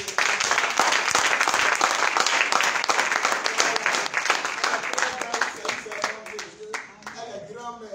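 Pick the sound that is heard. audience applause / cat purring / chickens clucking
audience applause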